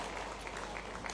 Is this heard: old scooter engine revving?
no